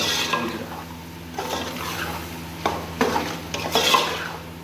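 Goat offal curry with chili powder and salt is stirred in a pot, a few close scraping and clinking strokes over a low steady background, with no talking.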